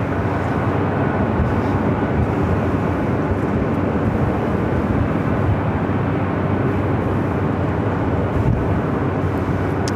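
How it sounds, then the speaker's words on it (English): A steady, loud jet roar fills the air at LAX while a Sports Charter Boeing 757 waits for takeoff on the north side. It holds as one broad, even wash of engine noise with no voices. "Sports Charter 757, number 2 for takeoff here on the north side."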